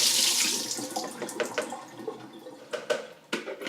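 Onion soaking water poured out and draining into a kitchen sink, a close, steady splashing rush that tapers into softer trickles and a few sharper drips and splashes.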